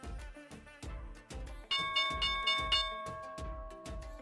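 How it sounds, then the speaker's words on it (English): The stock market opening bell rings in a steady series of bright metallic dings, about a dozen strikes in a regular rhythm. It is moderately loud and grows fuller partway through, with no talk over it. "Here's the opening bell, guys."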